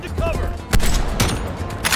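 AK rifle fire in the video game Cold War, with a few sharp, loud shots cracking out over a busy game mix of low rumble and effects.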